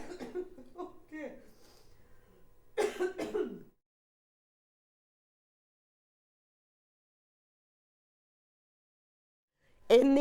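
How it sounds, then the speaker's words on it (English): A person coughs and clears their throat in a short rough burst, then silence, with another brief vocal sound at the end. "I've got such a bad cough."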